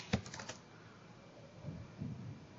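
A few quick keystrokes on a computer keyboard, a short cluster of light taps at the start followed by faint soft tapping in a quiet room, with no talking.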